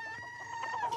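Rooster and hens cluck busily in a radio play, a close, lively run of clucks and short calls lasting about a second.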